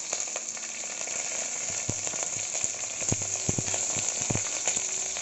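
Cumin seeds, green chillies and curry leaves frying in hot oil for a Telugu chickpea dish, a steady close sizzle with scattered sharp crackles and pops.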